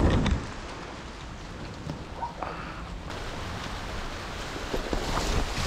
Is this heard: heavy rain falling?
yes